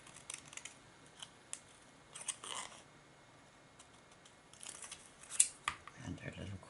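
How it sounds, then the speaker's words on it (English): Scissors snip around the small corners of a piece of card in short, quiet bursts. The cuts come close up with pauses between them. "I'm angling my scissors away from my card"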